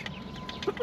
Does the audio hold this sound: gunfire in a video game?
no